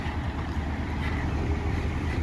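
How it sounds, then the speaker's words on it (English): Fairground lorries towing trailers rumble past near a main road at a riverside embankment as the fair arrives, a steady low engine drone with wind noise running throughout. "And I'm still seeing more lorries coming off the main road."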